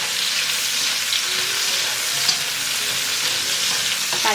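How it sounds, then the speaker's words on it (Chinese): Prawns, seared crisp and about 80% cooked, are stir-fried with ginger and garlic in a pan, producing a loud continuous sizzle with constant spatula scraping and stirring, close up and with no talk. "我们加入姜蒜， 给它翻炒一下。"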